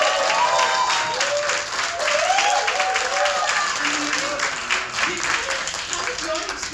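Audience applause and cheering at a film trailer launch event, sustained clapping with a few voices calling out over it, fairly close and loud.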